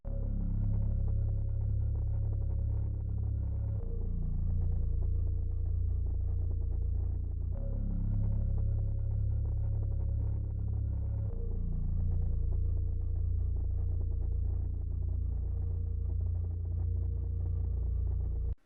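Deep sustained synth bass notes in an ambient melody, changing pitch about every four seconds beneath soft pads and glide notes, loud and steady with no talking.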